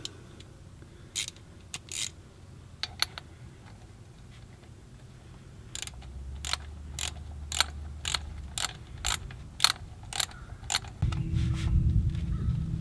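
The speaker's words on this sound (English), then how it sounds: "I can do it with this little Mac wrench ratchet." Small Mac Tools ratchet wrench turning outdoors on a John Deere 4300 tractor's low-pressure hydraulic return line, a run of crisp evenly spaced clicks in the middle, followed by a low rumble at the end.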